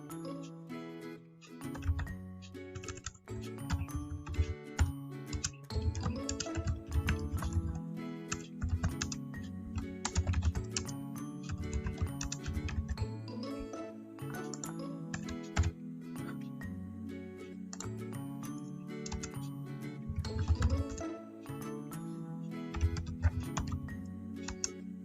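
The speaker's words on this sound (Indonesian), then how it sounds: "masih ada space untuk kita mengetik" Continuous typing on a computer keyboard, a dense run of close, crisp key clicks with irregular rhythm, alone without talk.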